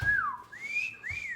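A pet bird whistles a few clear rising and falling notes, close and distinct, in two short phrases with no talk over them.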